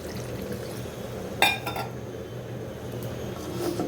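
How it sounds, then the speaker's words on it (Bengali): Water poured into a pan of hilsa fish curry simmering in a home kitchen: one sharp clatter and splash, then a soft trickle and low hiss, with faint utensil clinks afterward and no talking. "এখন হচ্ছে এখানে পানি দিয়ে দিব।"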